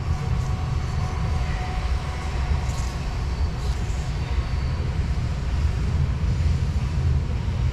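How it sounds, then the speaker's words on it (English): A train passes nearby, a heavy low rumble with rolling rail noise that stays steady and loud throughout. "Stupid train."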